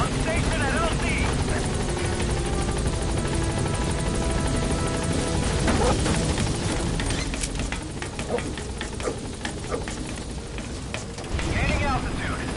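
A helicopter arriving at a landing zone in Metal Gear Solid V, its rotor chop continuous and loud beneath battlefield noise and scattered bursts, with voices speaking over it.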